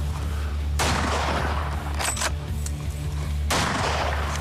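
Rifle shots ring out while hunting a bull buffalo in the wild: two loud, sharp blasts about three seconds apart, each with a short echoing tail over steady background rumble.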